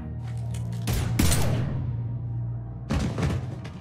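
Gunfire erupts in Mass Effect 3, two loud close bursts of shots with a lingering low rumble between them.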